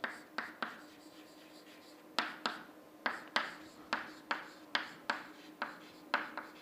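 Chalk or marker strikes a board as a physics lecture equation on stress is written, giving sharp, quick taps and short scrapes in irregular bursts, fairly faint in a quiet room.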